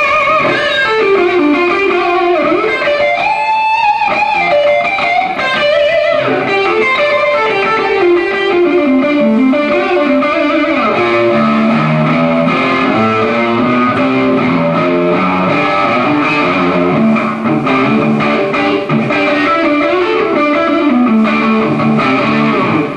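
A guitarist plays a heavily distorted electric guitar live at a clinic in Jakarta, with sustained, saturated notes and bending melodic lines ringing out continuously at loud volume without talk.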